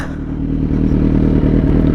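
Several motorcycle engines idle and rumble nearby in a steady low drone, with some clattering over the top and no talking.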